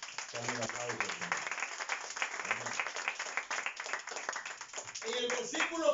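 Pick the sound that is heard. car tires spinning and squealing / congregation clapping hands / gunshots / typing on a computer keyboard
congregation clapping hands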